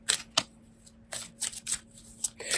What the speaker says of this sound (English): So now I am shuffling one of our Archangel Raphael Healing Oracle cards.